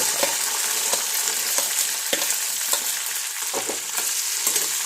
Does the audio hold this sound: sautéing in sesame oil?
yes